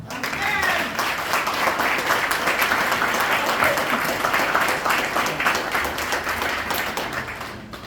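A church congregation breaks into sustained applause, many hands clapping in a dense, even patter that stays loud throughout, with a few voices under it, before it thins at the very end.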